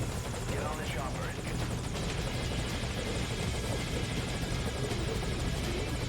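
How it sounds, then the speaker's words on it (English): Helicopter from the video game Metal Gear Solid V: Ground Zeroes, a steady rotor thrum and whine holding at an even loudness throughout, with the blade chop clear and close. "Get on the chopper."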